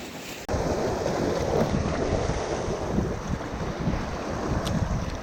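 Heavy wind on a Baja shore, a steady loud roar buffeting the microphone after a brief quiet start, with surf-like rumble underneath and no talk.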